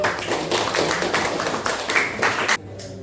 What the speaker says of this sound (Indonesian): Tepuk tangannya buat ini.